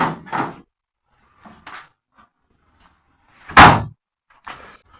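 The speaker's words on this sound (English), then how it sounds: "Just shut the door a moment." A door on a GT40 replica car is shut, one firm, close thud standing out among a few smaller knocks and handling sounds in an otherwise quiet workshop.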